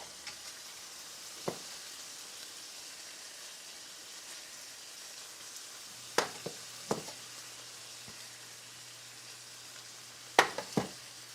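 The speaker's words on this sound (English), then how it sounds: "Give that a quick fry on both sides." Steak fries quietly in a pan with a soft, even sizzle, while a few sharp clinks and knocks of utensils come through at scattered moments.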